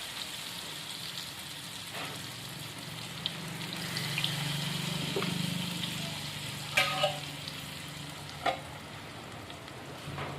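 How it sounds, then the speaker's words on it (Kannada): Fish frying on a tawa in a village kitchen, a steady soft sizzle with a few sharper crackles and pops near the end, with no talking. "ಫಸ್ಟು ಇದೇ ರೀತಿ ತವ್ಯಾಗ ಫ್ರೈ ಮಾಡ್ಕೋತೀನಿ ನೋಡ್ರಿ"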